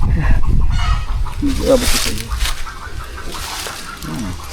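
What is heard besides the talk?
chickens clucking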